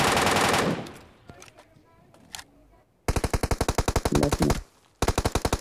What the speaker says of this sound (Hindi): उस साइड से भी गन साउंड आया था